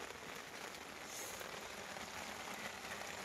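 Rain falls steadily outdoors as a soft, even hiss of drops on surfaces, faint and unbroken throughout, with no voices.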